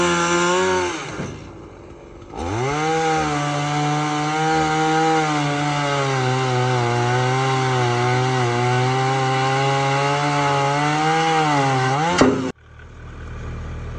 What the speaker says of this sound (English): The posts were made out of a 6x6 beam which had to be cut in half using the chainsaw.